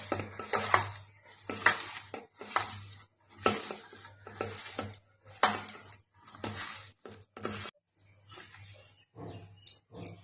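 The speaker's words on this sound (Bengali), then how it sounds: "এটাকে মাখাচ্ছি আমি এখন" Prawns being hand-mixed with turmeric and a little chilli powder in a bowl, giving repeated soft, wet squelching and scraping bursts, close and fairly quiet, with a steady low hum beneath and no talking.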